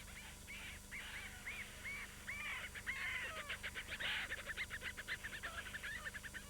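Fulmars call on exposed Arctic archipelago cliffs with harsh, rapid cackling and chattering notes in quick rhythmic bursts, fairly close over a faint steady background.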